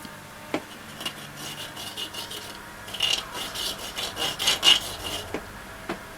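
A cotton bud scrubs residue off the circuit board of a Fluke 75 multimeter, making quiet rhythmic scratchy rubbing strokes that grow somewhat louder and quicker toward the end.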